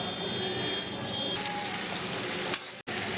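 Oil heating in a home kitchen pan for dry-style okra (bhindi) with green chilies and onion, giving a steady close hiss that brightens and grows louder partway through, with a brief clatter near the end.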